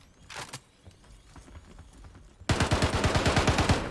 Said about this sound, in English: You don't have to keep shooting my body.